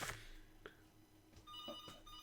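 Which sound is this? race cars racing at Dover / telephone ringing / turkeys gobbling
telephone ringing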